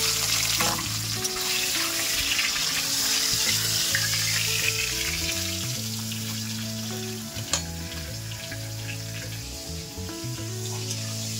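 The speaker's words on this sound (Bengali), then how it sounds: "এবার মাছটা ভেজে নেব।" Fish sizzles steadily in hot oil in a pan, a loud, continuous frying crackle with occasional sharper pops and stirring sounds.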